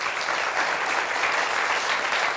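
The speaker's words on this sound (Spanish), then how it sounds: "Y os ruego un aplauso fuerte para él." A conference audience gives a dense, even round of applause that holds at a steady level throughout, with no voices over it.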